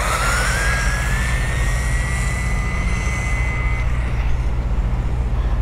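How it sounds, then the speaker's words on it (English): An RLAARLO RC race buggy running on a 2S battery drives fast, its electric motor whining in a high pitch that climbs and then holds steady over continuous rolling noise. "I'll drive it really fast up and down and we'll get the top speed."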